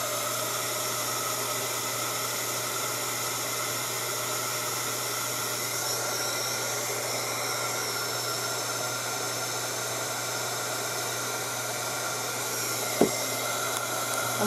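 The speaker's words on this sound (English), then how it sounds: "I do, in my bigger watercolor kit, have a portable travel hair dryer with me, and that does work great." A portable travel hair dryer blows over a watercolor painting, giving a steady, even whooshing whir for the whole stretch, with one brief click near the end.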